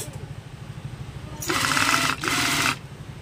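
A sewing machine stitches leather hand gloves in two close, loud bursts of rapid rhythmic chatter separated by a short pause, with a low motor hum running underneath.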